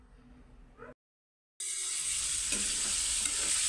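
Meat frying in a small amount of cooking oil in a pan, starting after a brief silence as a steady, close, loud sizzle with faint stirring scrapes over a home kitchen backdrop.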